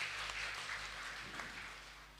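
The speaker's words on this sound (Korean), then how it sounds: "영광의 박수 하나님께 드리겠습니다" Congregation applause at a Wednesday church worship service, a broad steady wash of clapping filling the room and slowly tapering over a couple of seconds.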